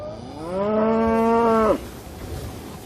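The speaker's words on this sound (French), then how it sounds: "une race typiquement corse, la vache tigre" A single long, loud moo from a Corsican tiger cow, a breed typical of Corsica, rises and holds for over a second before cutting off, close and clear, with quiet outdoor ambience after.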